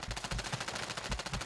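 Rapid automatic gunfire from several players in the Call of Duty Warzone video game, loud close bursts repeating almost without pause through the whole moment.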